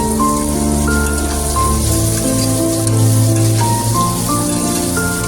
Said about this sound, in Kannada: ಎಲ್ಲ ಫ್ರೈ ಆಗ್ತದೆ